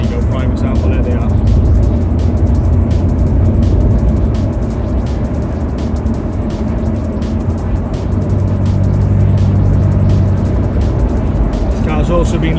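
An Alfa Romeo 166 with the Busso V6, lowered on Bilstein shocks and springs, pulls hard up a road from inside the cabin, a loud, steady engine roar under heavy road and wind rumble, with a voice talking over it.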